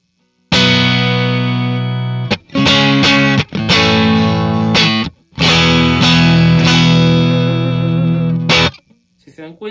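An electric guitar played through a VOX AC30 amplifier with the amp channel volume raised and the master turned down gives a thick, sustained distorted tone, ringing chords and notes in long phrases with brief gaps between them.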